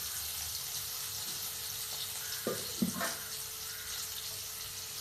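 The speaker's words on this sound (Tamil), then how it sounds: "வெங்காயம் வதங்கட்டும். வெங்காயம் நல்லா வதங்கிடுச்சு." Onions fry in oil in a pan for a mutton gravy, a faint, steady hiss of sizzling with a couple of small clatters near the middle and no voices.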